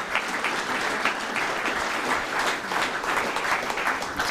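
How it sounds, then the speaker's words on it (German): Sustained applause from a university ceremony audience as group members step forward to collect certificates, dense steady clapping filling the room at even loudness without a break. "ganz, ganz herzlichen Applaus bitte für diese tollen, engagierten Menschen"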